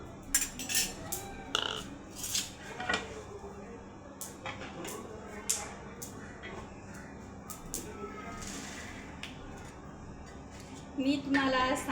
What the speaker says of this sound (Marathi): शेंगदाणे खूप छानपैकी भाजल्या गेलेले आहेत. आता आपण हे शेंगदाणे काढून घेऊ.